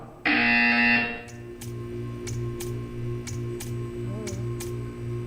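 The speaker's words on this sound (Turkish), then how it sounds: "You will hear a buzzer." A loud electronic buzzer from the video game Portal 2 blares for about a second, then a steady pulsing hum with faint periodic ticks carries on beneath.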